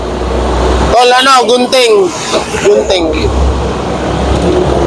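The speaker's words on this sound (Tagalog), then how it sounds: "Daming dumadaan na truck." Traffic rumbles steadily on the street outside the TV5 studio, with trucks passing as a broad low roar. People talk loudly close by over the top of it.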